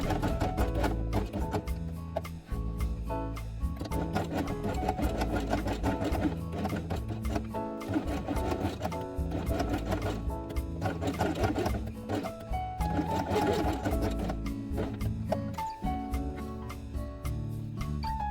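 Sewing machine stitching along the edge of black felt for a quiet book page, a close mechanical clatter in repeated bursts with brief pauses between runs.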